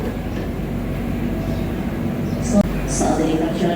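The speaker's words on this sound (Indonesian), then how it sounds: "Saat ini kereta api Joglo Semarang-Kerto tiba di stasiun Kuto Arjo" The Joglosemarkerto executive train pulls into Kutoarjo station with a steady low rumble of rolling wheels and carriages, a brief clank partway through, while a person talks over it.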